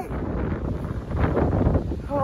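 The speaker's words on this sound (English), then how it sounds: "It's so windy." Gusty wind buffets the microphone in a steady roar, with rustling and a brief voice near the end.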